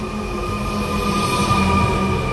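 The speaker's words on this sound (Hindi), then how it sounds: "ये चली है पटना मेट्रो।" A Patna Metro train running, steady rumbling rail noise with a high whining tone, close and continuous without talk.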